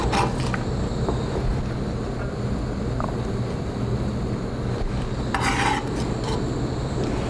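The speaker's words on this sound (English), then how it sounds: "we're going to add our onion and our garlic" Onion and garlic go into a cooking pot and are stirred, bringing soft scraping and clinks of a utensil against the pot over a steady background hiss, with a couple of brighter metallic scrapes.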